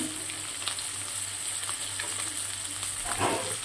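Spices frying with salt and ginger paste for dal tadka give a steady, moderately loud sizzle with a few soft stirring scrapes, heard alone and close.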